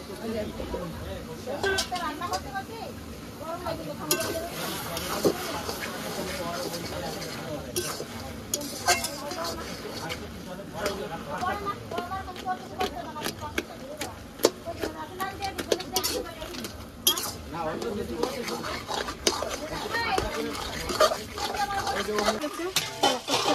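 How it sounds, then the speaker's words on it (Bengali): Taro leaves with fish being stirred in a small wok, with scraping, clinks of a utensil against metal and a faint sizzle under intermittent talk. "ছোট কড়াইয়ে রান্না হচ্ছে কচু শাকটা"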